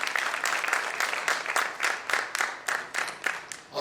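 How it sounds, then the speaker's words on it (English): Convention hall audience at a summit giving a big round of applause, a loud, full burst of clapping that swells into distinct rhythmic pulses before tapering off, with no talking. "Please give a big round of applause."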